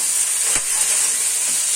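Vegetables hiss and sizzle steadily as they fry in a pan while being slowly stirred for a flattened-rice pulao, with a soft scrape partway through.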